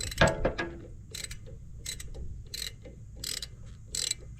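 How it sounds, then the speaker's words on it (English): A set screw on a shaft of a Vermeer 5410 Rebel is tightened with a ratchet, producing a series of short, crisp ratcheting clicks in separate bursts, close and moderately loud, with no talking. "I'm going to tighten up the set screw"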